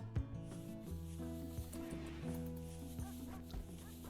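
Dogs in the video game RimWorld give short barks and yips, with a whimper or two, over a steady hum of game music. The barks are moderately close and come at irregular intervals.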